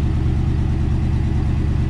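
A barn-find 1958 Dodge Coronet Lancer engine runs with no exhaust fitted, giving a loud, steady, raw mechanical drone that stays even and close with no pauses.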